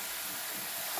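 A cooking pot of water with lamb and taro boils on the stove, giving off a steady, close hiss of steam and bubbling that runs evenly and alone throughout.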